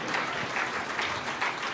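A church congregation claps hands in a steady, rhythmic beat, loud and close, filling the whole short stretch with no talking over it.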